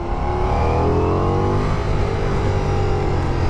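Ducati Diavel V4 motorcycle engine under way, a loud continuous roar with rising and falling revs sustained through the whole stretch, no talking.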